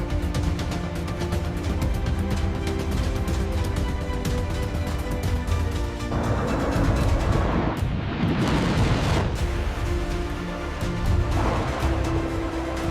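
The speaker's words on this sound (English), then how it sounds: "Massive explosions confirmed a devastating impact on the enemy's ammunition depots below." Massive explosions from an air strike on enemy ammunition depots in Iraq, heard as continuous loud rumbling booms, with a heavier burst swelling up midway and rolling on to the end.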